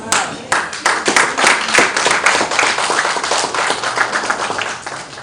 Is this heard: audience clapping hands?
yes